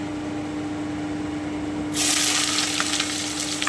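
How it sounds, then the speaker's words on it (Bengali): Onions hit a hot pan for chicken vindaloo and a loud, close sizzle bursts in about halfway through, holding steady after a low quiet hum. "আমি হালকা ব্রাউন করে ভেজে নিচ্ছি"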